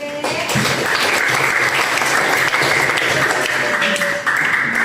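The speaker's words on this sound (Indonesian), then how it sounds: "Tepuk tangan yang tertuju." Students clap together during a classroom lesson on Islamic religious practice, a steady, fairly loud burst of applause lasting several seconds, with faint room voices and tones beneath.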